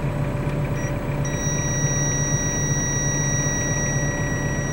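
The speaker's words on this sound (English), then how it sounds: "that alarm will go off to let you know when you're just about to reach that threshold" A Kubota 5740 tractor's tilt alarm sounds a steady, piercing high electronic tone that starts about a second in and holds continuously over the low rumble of the idling engine.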